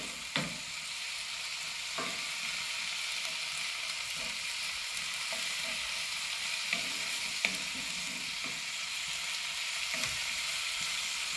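Food sautés in a pan on a Kamado Joe ceramic grill with a steady, continuous sizzle, punctuated by occasional clicks and scrapes of a utensil, and no talking.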